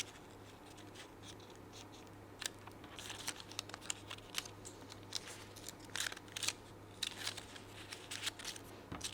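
Paper being folded into triangles for a craft windmill, with soft crinkling, creasing and sliding rustles in irregular bursts, close and fairly quiet over a steady low hum.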